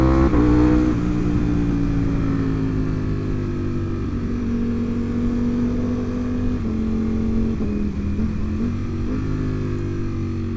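Ducati Panigale V4 sport motorcycle ridden solo on an open road, its engine droning loud and steady with a rising, shifting pitch as it accelerates, close to the rider throughout.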